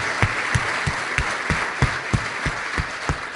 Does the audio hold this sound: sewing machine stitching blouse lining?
no